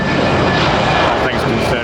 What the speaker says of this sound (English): Wow, that's a long takeoff